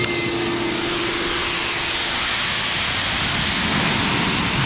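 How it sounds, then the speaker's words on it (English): An air blower drying a ceramic-coated, PPF-wrapped C8 Corvette after a wash, a loud, steady roaring rush of air with a faint constant whine, close and unbroken. "It blows the water right off of it."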